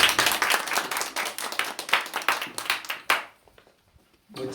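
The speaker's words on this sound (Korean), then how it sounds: "다시 한번 박수." A church congregation applauds during a Christmas service, dense close clapping that breaks off abruptly partway through, leaving near silence before a faint sound returns at the end.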